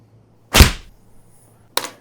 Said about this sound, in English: I'll punch that mark.